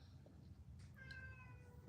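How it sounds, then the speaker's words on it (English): Indoors, a cat gives one short, clear meow, wanting to come up, over a steady low background hum. "Hold on, my cat want to come up."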